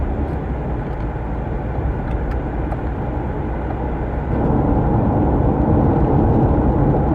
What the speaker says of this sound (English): But tires on the road, I-95